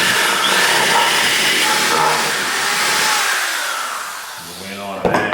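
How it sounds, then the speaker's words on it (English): A power drill boring at an angle into the wooden transom of a skiff, a loud continuous whirring drone that holds steady, dips slightly, then winds down with a rattling clatter at the very end, with no talk. "I'm going to drill this now on an angle into there."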